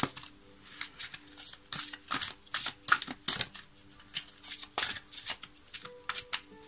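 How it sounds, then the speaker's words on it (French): Cards from an oracle deck are shuffled and drawn, giving close bursts of crisp riffling and flicking in uneven clusters, with no talking. "Je vais donc maintenant tirer une carte de l'oracle Murmure de la Nature"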